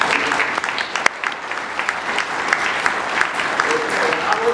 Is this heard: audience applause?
yes